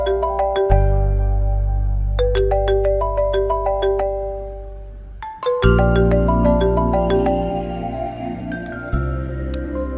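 A mobile phone plays a loud, melodic electronic ringtone with chiming notes and a deep sustained bass, repeating for the whole stretch with only a brief pause and no talking.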